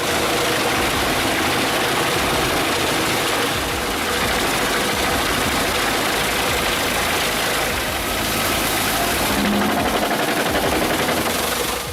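Petzolato PTH900 wood chipper engine roaring steadily and loudly throughout, a dense continuous mechanical drone with a rough, rattling texture as it processes hefty logs.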